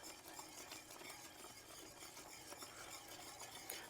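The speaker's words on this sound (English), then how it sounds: "I'm going to stir that until it melts fully in there" A spoon stirs Parmesan into a sun dried tomato Alfredo sauce, a soft continuous scraping and swishing close by, faint and alone with no talk.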